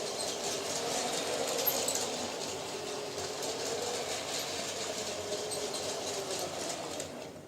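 A motorized Lepin toy cargo train runs steadily while pulling magnet-coupled carriages, giving off a constant whirring motor drone with a faint rhythmic clatter, close by and without talk.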